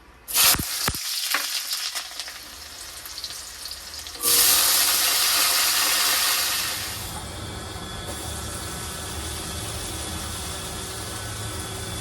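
Onions and chillies hit hot white oil in a wok with a loud burst of sizzling after a few clanks, settling into a steady, close frying hiss.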